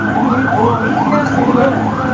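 An ambulance siren wails loud and close in repeated rising and falling sweeps, with road and engine rumble underneath.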